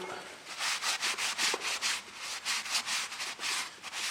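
New rear brake disc for a 2004 Saab 9-3 1.8t being wiped clean by hand, a rhythmic series of rasping rubbing strokes, close and steady, around ten passes with no talking.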